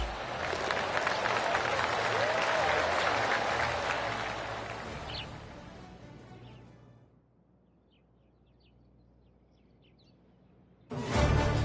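Sustained crowd applause and cheering swell after a golf victory in PGA TOUR 2K25, holding loud for several seconds before fading away into near silence, followed by a sudden burst of noise at the very end.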